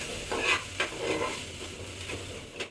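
Sliced onions simmering in a little water without oil are stirred in a pan, giving a few soft scraping strokes over a faint sizzle.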